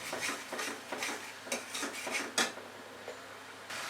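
A utensil scrapes and stirs spices sautéing in a pan for a Bengali prawn bhuna, giving off quiet, irregular scraping and tapping strokes with no talk.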